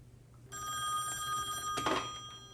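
A telephone bell rings in a busy office setting, a bright, steady ringing tone that starts suddenly and continues for about two seconds over a low background hum.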